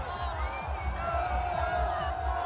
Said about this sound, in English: The crowds cheered.